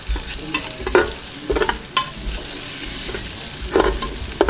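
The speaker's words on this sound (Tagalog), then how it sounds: "let's add the onions. Red onions has stronger and richer flavor than the white." Red onions sizzling as they fry in a pot, with intermittent scraping stirs breaking through the steady crackle at close range.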